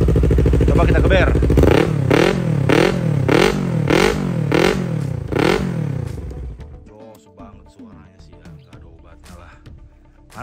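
A 2018 Yamaha R25 motorcycle engine revs hard in a run of about six rhythmic throttle blips, then settles back to a rough, uneven idle.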